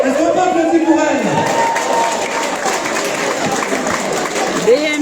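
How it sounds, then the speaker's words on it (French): Applause from a crowd with some cheering, a steady wash of clapping that continues under a voice speaking over it. "Est-ce qu'on peut applaudir pour elle?"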